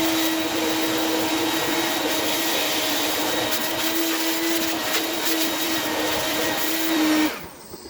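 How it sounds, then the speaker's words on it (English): A shop vac sucks water out of a KitchenAid dishwasher, a loud steady whining roar held close and alone for several seconds before it cuts off abruptly near the end. "I'm going to grab a shop vac, and I'm going to vacuum all the water out of it that I can get"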